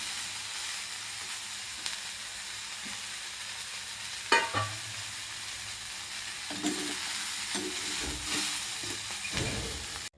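Cluster beans (gavar) roast in a pan with a faint, steady sizzle and hiss, broken by a few soft scrapes and clatters from stirring.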